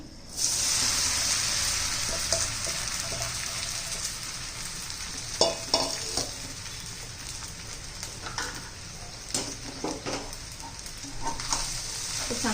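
Steady, loud sizzling of food frying in a hot kadhai, with occasional clinks and stirring scrapes over the continuous hiss.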